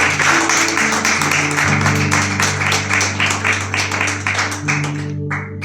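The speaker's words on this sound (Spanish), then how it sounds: "¿Por qué no le da un fuerte aplauso a Él? Déjalo fuerte." Loud applause from a church congregation, dense and sustained clapping with rhythmic pulses, under a held musical tone that fades near the end.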